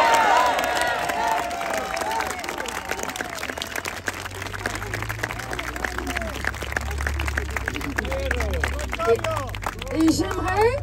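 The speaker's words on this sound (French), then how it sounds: "J'aimerais qu'on l'applaudisse bien fort." A large crowd at a political support rally in Nancy claps and cheers continuously, dense applause mixed with shouts and a murmur of voices throughout.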